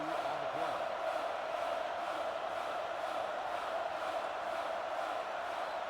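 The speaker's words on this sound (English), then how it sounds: "The crowd cheering for the Trash Pandas to go for it on 4th down, but Oliver Spicy Brand and the punting team" Crowd noise rises as fans cheer at a football game, a steady, distant roar of many voices with no single caller standing out, somewhat faint and washed together.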